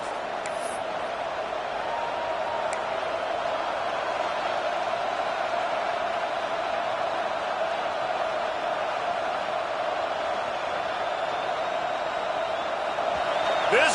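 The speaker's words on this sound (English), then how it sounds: "This crowd trying to show them what it's going to be like all day in this house" Dense roar of a packed stadium crowd at an FSU at Clemson college football game, a steady, far-spread wall of cheering and whooping that holds for the whole stretch and swells slightly at the end.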